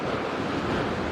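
Rough sea waves wash onto the shore in a constant loud roar of surf, mixed with wind buffeting the microphone, steady with no breaks.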